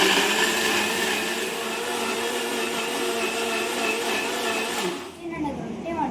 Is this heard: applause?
no